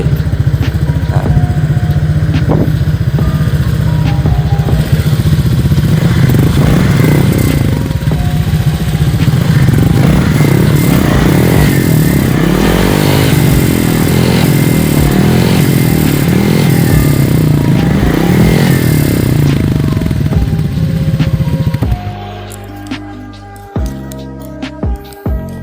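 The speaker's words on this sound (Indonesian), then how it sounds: "Kita bakal cek sound di bagian knalpotnya." Honda PCX scooter with a stainless steel aftermarket exhaust, Thai-style build: a loud, close, continuous engine drone with raspy revving swells through the middle, then the engine cuts out into clattering handling noises near the end.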